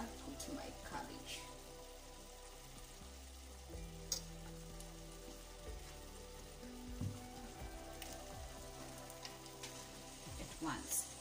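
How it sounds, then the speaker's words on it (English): Cabbage frying in a pan with beef and spices, giving a steady low sizzle and crackle, faint and continuous, with occasional stirring clicks. "And I'll put my cabbage."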